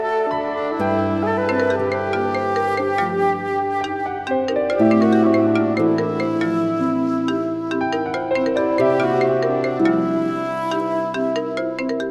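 A melodic electronic phone ringtone plays loudly and continuously, a repeating tune of bright sustained tones with no voices.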